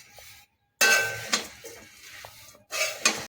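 Flattened rice dry-roasting in a dry pan with no oil over low heat, stirred with a utensil: bursts of dry rustling scrapes and clinks against the pan, separated by brief silent gaps.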